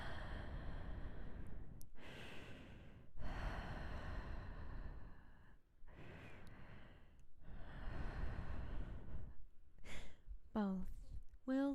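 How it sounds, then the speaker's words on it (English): Slow, deep breaths drawn and released close to the microphone for an ASMR trigger, about half a dozen long airy inhales and exhales in a steady rhythm, ending with a few short voiced gasps. "Deep breathing."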